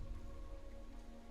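Steady rain patters on surfaces in Dawn of War 2, a soft, even hiss of drops that continues without a break.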